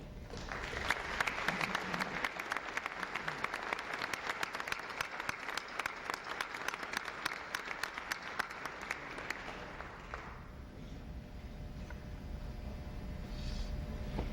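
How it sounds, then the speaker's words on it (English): Warm audience applause at a 1995 sports hall of fame ceremony for the Ed Stonebach family, a full steady roar of clapping from a large hall that runs for about ten seconds, then cuts off into quiet room tone. "I would also like the Ed Stonebach family to rise over there and receive your applause"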